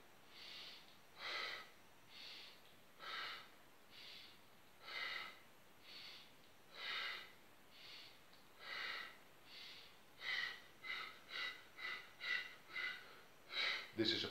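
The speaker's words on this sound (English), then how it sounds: "This is a part of the epiphora breathing technique." Breathing exercise from the Epiphora technique: a regular series of sharp nasal inhales or snorts, slow and evenly spaced at first, then quickening into rapid bursts, close and alone.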